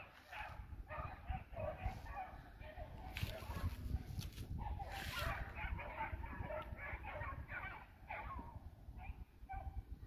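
Hunting dogs bark and bay at a distance while chasing a swamp rabbit through a field, the yelps coming repeatedly and irregularly; someone speaks quietly nearby.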